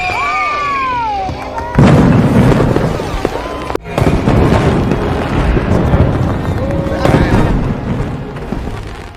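Fireworks bursting at a celebration in a film scene, a loud booming crackle that erupts, cuts off briefly, then continues in dense overlapping pops and rumbles, with a whistling rise at the start.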